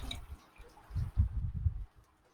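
About 350 ml of hot water pours into a jar of kimchi noodles, a soft, low, close gurgle of liquid lasting under a second before it fades.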